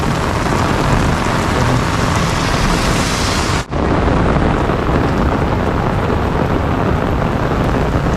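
Torrential storm rain falls over Mumbai and Thane in a loud, unbroken roar, interrupted once by a momentary dip partway through before resuming at full strength, with no voices.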